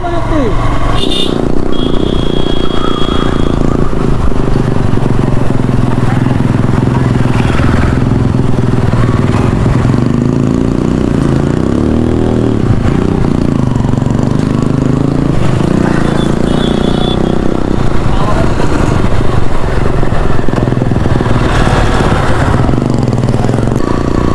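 Motorcycle riding on a road during Eid, a continuous loud close engine drone with wind rumble and shifting revs throughout, with riders talking over it.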